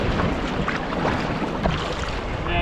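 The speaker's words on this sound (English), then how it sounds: "And then we'll fire up the motor." A paddleboard fitted with a BOOST fin motor runs on open ocean in windy conditions, giving a steady, loud whir blended with wind and water noise throughout.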